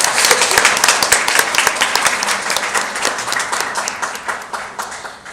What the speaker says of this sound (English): So can we give Melissa another round of applause?